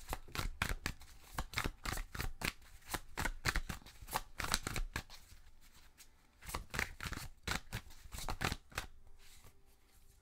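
Oracle cards are shuffled during a card reading, with a rapid run of crisp riffling slaps and flutters close to the microphone, pausing briefly midway and then easing off toward the end.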